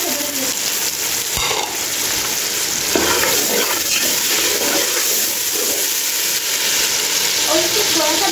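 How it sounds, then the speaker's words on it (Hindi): Chopped tomatoes and dried coriander sizzle and fry steadily in a hot pan, a continuous crackling hiss with occasional stirring scrapes, close and even throughout. "और इसको थोड़ा सा भून लेंगे।"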